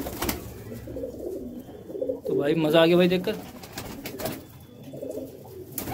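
Pigeons coo softly nearby in short bursts while someone talks over them.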